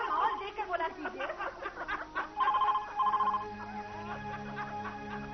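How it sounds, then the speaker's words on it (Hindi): A telephone rings amid a noisy household scene, its repeated electronic tones running under overlapping loud talk and laughter from several people. "तुम फोन उठाओ"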